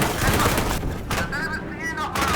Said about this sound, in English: Seems like there is machine gun fire going on there.